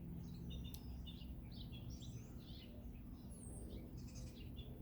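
Small birds chirp and tweet in short, scattered bursts, faint and somewhat distant over a low, steady background rumble.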